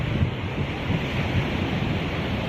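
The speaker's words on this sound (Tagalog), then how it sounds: "Ganun nga lakas yung alon dito." Strong ocean waves pound the shore at Baler, a dense, continuous wash of surf with wind buffeting close to the microphone.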